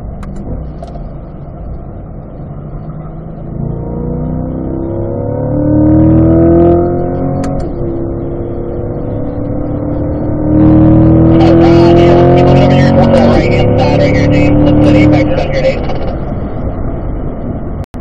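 A car pulls hard down a race track straightaway at a driving school, engine note climbing through two long rising pulls with a shift between, loud and close, with an instructor talking over it.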